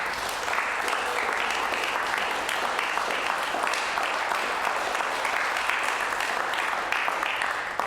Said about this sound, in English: Will you give my friend Colin a round of applause as well, please, at the back?